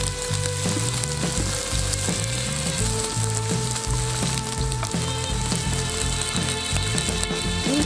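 Sausage-and-garlic filling sizzles loudly and steadily on a charcoal grill with zucchini and eggs, a close, continuous frying hiss broken by light scraping and utensil clicks.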